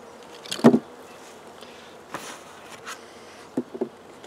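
Bees robbing honey from a weak, destroyed colony; a few brief close buzzes of individual bees flying past, faint and separated by quiet gaps.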